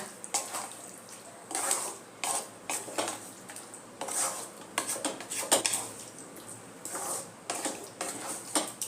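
Chicken being mixed with salt and spices in a pot, a series of irregular scraping and clinking spoon strokes against the metal, fairly close and moderately quiet, with no voices.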